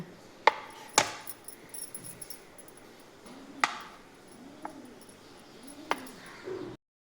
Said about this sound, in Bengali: সোপ পিসটাকে এবার আমি কেটে নেব।